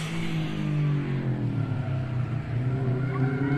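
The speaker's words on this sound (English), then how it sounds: "Anwar Daniels now pulls to the start line at the warm-up section with his 200SX" A Nissan 200SX with an SR20 engine drones at a gymkhana warm-up section, its engine note steady and fairly close, rising and falling slightly as it moves off the start line.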